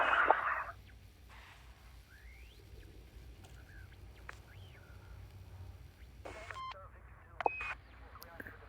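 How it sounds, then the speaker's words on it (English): A proximity alarm in the space game Elite Dangerous gives a few short electronic beeps late on, faint against a quiet low ambient hum, with scattered soft tones earlier. "Setting off my proximity alarm."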